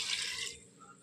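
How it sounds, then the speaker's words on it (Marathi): Half a small pot of water pours into a pressure cooker while village-style chicken curry is being cooked, a close, steady splashing rush that fades after about half a second. "त्याच्यामध्ये टाकत आहे मी एक अर्धा तांबे पाणी"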